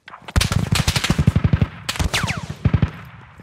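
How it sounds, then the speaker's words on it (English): Bursts of suppressing automatic gunfire in the military shooter Squad, loud and close, with two long rapid strings of shots separated by a short pause. "I'll give you a good bit of suppressing fire before he's pushing."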